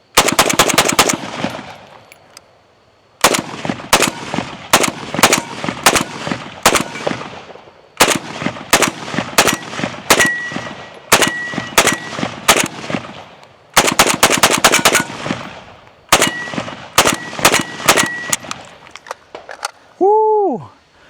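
Zastava M92 rifle firing GROM ammunition outdoors in rapid strings of loud close gunshots, several bursts separated by short pauses, ending with a shout.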